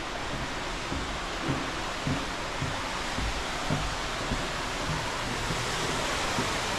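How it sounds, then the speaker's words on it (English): Waterfall at Hallstatt, Austria, heard up close as a steady, loud broadband rush of falling water that stays even and unbroken throughout. "Looks like we can get up close and personal with the waterfall."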